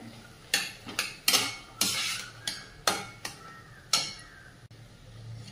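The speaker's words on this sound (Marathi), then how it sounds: "हे सगळं साहित्य टाकून व्यवस्थित असं एकत्र करून घ्यायचंय." A spoon clinks and scrapes against a pan in about eight separate strokes as spices and peas are mixed together for a veg soybean keema, with only a faint sizzle underneath; close, with no speech.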